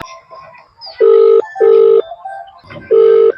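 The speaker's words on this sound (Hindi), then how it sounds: "प्रधान को फोन लगाता हूँ।" Three loud, clear telephone keypad tones beep one after another, with faint background murmur between them.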